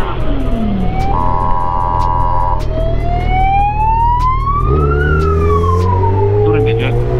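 A loud ambulance siren wails close by, heard from a motorcycle, its pitch sweeping up and down repeatedly over a rumbling engine, with voices briefly audible.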